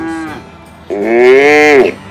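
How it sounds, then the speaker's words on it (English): Bulls on a cattle ranch moo loudly in a short call followed by a long, drawn-out bellow, heard up close with no talk over them. "Lots of bulls to rope today."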